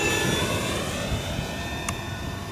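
An electric-converted Hangar 9 P-51D Mustang RC model plane flies overhead. Its motor gives a continuous whining drone with steady tonal lines and a brief higher flicker near the end, heard alone without talking.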